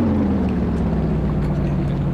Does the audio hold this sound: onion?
no